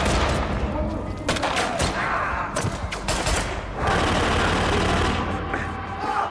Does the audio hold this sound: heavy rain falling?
no